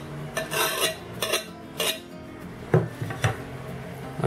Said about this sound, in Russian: Опять же все перемешиваем и оставляем примерно на час.